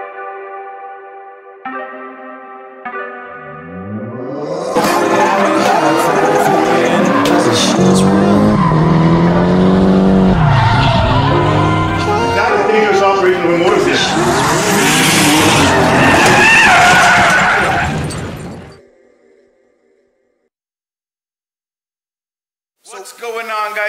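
Car sliding with tires skidding and squealing, preceded by short revving blips, then a long loud stretch of screeching rubber and roaring engine before cutting to near silence.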